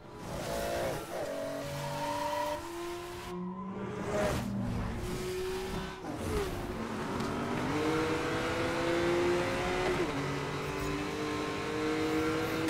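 A racing car engine from the Need for Speed Most Wanted video game, running on a Full HD setup, revs and shifts through rising and falling tones, with brief tire squeal and a steady layer of game noise.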